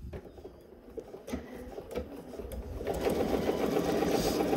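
Sewing machine running a seam with a half-inch allowance near a metal zipper, a close, continuous mechanical whirring that builds and grows louder toward the end, with no talking.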